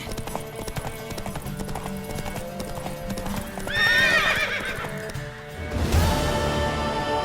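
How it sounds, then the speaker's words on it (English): A horse in The Witcher 3 gives a loud, close neigh and a whinny over a steady clip-clop of hooves, with a louder burst near the end. "Want that horse, don't ya?"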